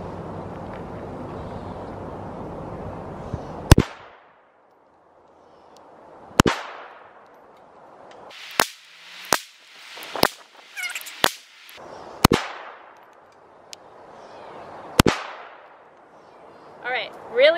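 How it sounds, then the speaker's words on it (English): A Walther CCP .380 pistol fires eight rounds at a 7-yard range, each shot a loud, sharp crack spaced irregularly a second or more apart, with ringing decay and the reports close at hand. "I'm gonna fire all 8 rounds and see how it feels."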